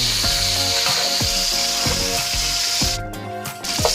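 Cauliflower sizzling in masala in a pan, a steady loud fry hiss with repeated scraping and stirring strokes, with no talking.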